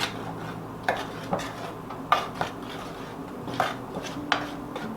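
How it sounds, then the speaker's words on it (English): Sparse clinks and taps of a utensil against a bowl while flour, paprika, dry mustard, salt and pepper are stirred together, a few scattered light knocks over quiet room tone. "I'm just going to kind of mix those together"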